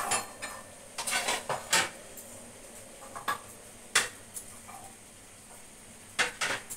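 Tea being strained into cups, a series of close clinks and taps of metal strainer and utensils against cups and pots, scattered sharp hits over a quiet hiss, no talking.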